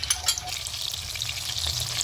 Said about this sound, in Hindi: इनको भी उलट पुलट के 6 से 7 मिनट तक पकाते हैं